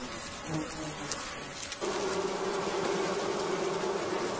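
Japanese honeybees swarm at their hive while a giant hornet scout hovers nearby. A dense insect buzz hums close by and swells suddenly halfway through into a louder, steadier collective drone.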